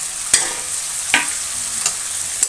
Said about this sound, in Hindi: अब इसमें टमाटर डालेंगे,